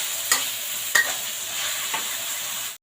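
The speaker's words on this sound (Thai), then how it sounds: "ใส่หมูลงไปค่ะ ผัดหมูพอสุกนะคะ" Pork stir-fried in a pan over curry paste, a steady close sizzle broken by a few sharp scrapes of a spatula stirring the meat.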